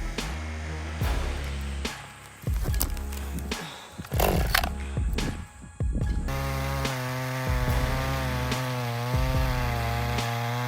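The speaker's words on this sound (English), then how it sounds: "The roaring chainsaw slices cleanly through massive tree trunks, sending wood chips flying in every direction." A big chainsaw cuts through massive tree trunks in outdoor stump removal work, its engine droning steadily and rising and falling in pitch, with sharp knocks and crackles from the wood.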